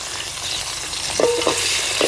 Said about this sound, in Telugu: ఆయిల్ అయితే బాగా వేడైందండి సన్నగా కట్ చేసుకున్న ఆనియన్స్ వేసుకుందాం